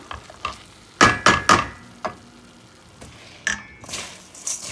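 Jollof rice gravy cooking in a pot: a few sharp stirring scrapes and clanks over a soft, steady sizzle, close and fairly loud, with quiet gaps between the strokes.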